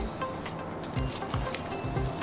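Aerosol spray paint hissing onto a surface coated with Gentoo hydrophobic coating in short repeated bursts, close and moderately loud, with no talking.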